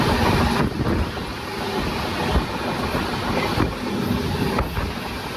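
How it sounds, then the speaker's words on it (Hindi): A train picking up speed after departing for Indore, heard as a steady, loud roar of rushing air and rumbling wheels with faint rhythmic clacks, recorded close with wind buffeting the microphone. "और धीरे धीरे ये जो है स्पीड पकड़ रही है।"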